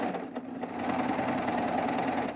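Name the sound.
serger sewing machine stitching quilt binding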